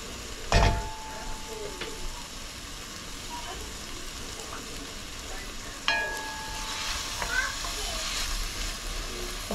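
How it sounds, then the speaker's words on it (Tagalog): Chicken and chicken feet sauté in a pan for arroz caldo, giving off a steady, moderate sizzle with a couple of sharp clatters of stirring utensils, and faint voices in the background. "Umpisahan na natin igisa yung ating chicken and chicken feet."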